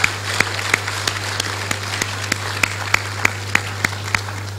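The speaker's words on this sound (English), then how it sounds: "let us applaud them" Audience applause at an anniversary event and foundation launch, a thin, sparse patter of individual claps with a few sharp, louder claps standing out in an irregular rhythm over a steady background hum.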